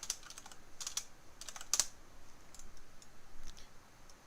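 Keys on a computer keyboard are typed while working in the Unreal Engine 4 editor, giving a few sparse, quiet clicks and one brief louder cluster in a quiet room.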